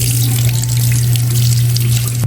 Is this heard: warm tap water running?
yes